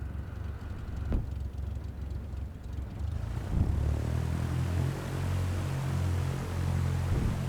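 Cessna 172 engine taxiing in a flight simulator, a steady propeller drone that rises in power partway through and then holds a constant hum, with a faint click early on.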